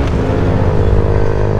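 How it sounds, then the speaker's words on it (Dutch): An 80cc moped with no muffler in its exhaust gives a loud, raw, buzzing engine drone, close and continuous with no talk over it. "Bro, ik heb niet eens een damper in mijn uitlaat."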